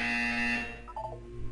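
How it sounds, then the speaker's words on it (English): A single buzzer sounds in the video game Portal 2, a loud, sustained electronic buzz that cuts off after about half a second, followed by faint quieter tones. "You will hear a buzzer. When you hear the buzzer, look down at the floor."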